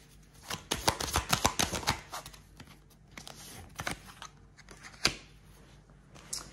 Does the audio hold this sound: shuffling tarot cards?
yes